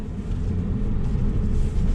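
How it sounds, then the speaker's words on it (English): A 2020 Nissan Frontier Pro-4X truck, diff locked and in four-high, drives through a short off-road section, its engine a steady low rumble close by, with no talking. "let's go ahead and take the Frontier through this little off-road section here"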